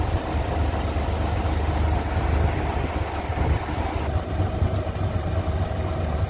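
A Hino 500 FM2P 380HP ten-wheel truck engine idles steadily, a loud, constant low diesel rumble with a broad noisy wash and no talk.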